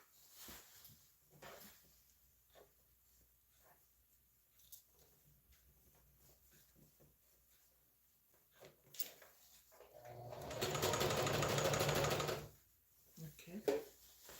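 A home sewing machine that is not sewing well, used to make a butterfly top, runs in one loud burst of about two seconds near the end, after quiet stretches with faint talk and small handling noises.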